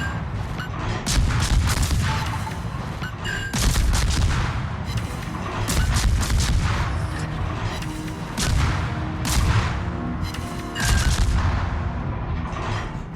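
Naval gunfire from the French destroyer Le Fantasque in a game, repeated heavy booming shots in an irregular rhythm over a constant rumbling battle din, loud and close throughout.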